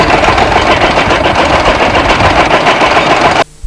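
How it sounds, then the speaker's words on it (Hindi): Tractor engine running loud and close in farm fields, a steady rattling chug that cuts off abruptly near the end. "ट्रैक्टर साहब अभी आ रहा है"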